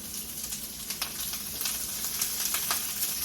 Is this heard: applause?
no